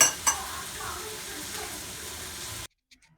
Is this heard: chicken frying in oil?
yes